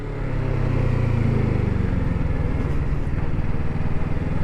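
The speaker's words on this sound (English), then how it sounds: "I'm going to do a double downshift. I'm in 4, 3, 2." Motorcycle engine dropping from fourth to second gear in a double downshift, a close, loud rumble that swells as revs climb and then settles into an uneven throb.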